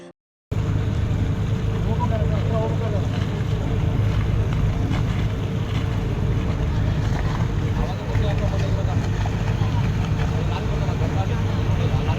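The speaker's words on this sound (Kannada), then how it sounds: "ಈ ಹಡಗಲ್ಲಿ ತಮ್ಮ ಕಾರು, ಜೀಪು, ಮೋಟಾರ್ ಸೈಕಲ್ ಮತ್ತು ಗವರ್ಮೆಂಟ್ ಬಸ್ಗಳು ಕೂಡ ಈ ದಡದಿಂದ ಆ ದಡಕ್ಕೆ ಹಡಗಿನಲ್ಲಿ ಸಾಗಿಸುತ್ತಾರೆ" Continuous rumbling engine drone of a ferry carrying cars, jeeps, motorcycles and buses across the river toward Sigandur, with wind and water noise, steady and close, after a brief silent start.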